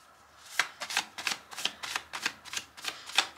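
Tarot cards being shuffled by hand, a run of about ten quick papery riffles and flicks in a steady rhythm, close and clear with no voices.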